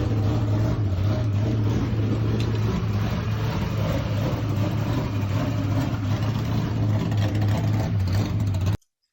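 Engine of a race car, readied for the Rockingham track, holds a steady low idle with a constant throbbing hum, loud and unbroken from start to finish before cutting off abruptly at the end.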